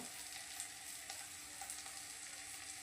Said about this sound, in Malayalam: നമുക്കതിലേക്ക് മുളക് പൊടിയിടാം